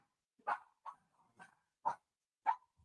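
Puppies bark excitedly, five short sharp yips spaced about half a second apart, fairly close and clear against a quiet background.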